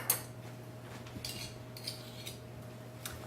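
Thin metallic scrape of a knife drawn across a tablespoon to level off canna-butter for infused caramel corn, with light clinks over a steady background hum.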